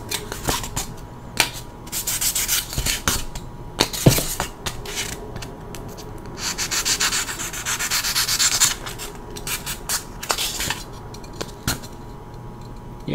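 Sandpaper rubs by hand across a handmade Halloween tombstone prop, loud close scratchy strokes in an irregular back-and-forth rhythm with brief pauses, a few small knocks mixed in, no speech.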